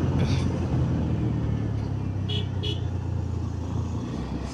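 A TVS Ntorq scooter rides a mountain hairpin road near Munnar at night, its engine and wind making a steady, close drone with a few brief higher accents.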